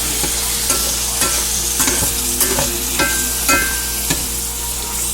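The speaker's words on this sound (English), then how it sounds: "I'm mixing it with the grease, so some people like to drain it." Spaghetti sauce is stirred in a greasy frying pan, with a steady sizzle and repeated scraping clinks of the utensil against the pan, no talk.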